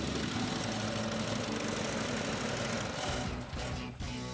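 A snowblower engine runs outdoors in the cold, a loud, steady mechanical drone close by that dips and falters near the end as it starts to shut down.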